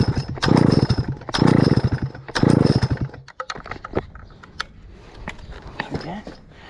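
A Stihl 051 chainsaw engine is pulled over three times in rhythmic, sputtering bursts, followed by uneven pops and brief catches as it tries to fire; handling clatter fills the gaps.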